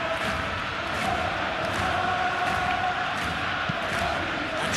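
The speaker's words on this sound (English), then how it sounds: "Now the crowd are demanding that they just finish this off." A stadium crowd in the PES 21 football video game during a Champions League match roars and chants in a steady, swelling wash of noise, with a commentator talking over it.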